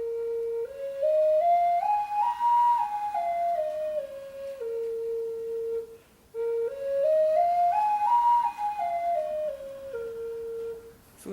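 A homemade flute with a small piece of plastic set into its head plays a clear, breathy whistling melody twice over, each phrase rising and then falling in steady stepped notes, close and alone with no talk.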